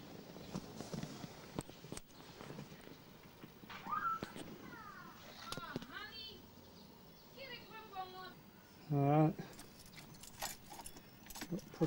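Car keys jangle inside a 1974 Ford XB coupe with white leather interior, a few light metallic clinks that recur through the clip among shuffling and handling noises, with people talking nearby.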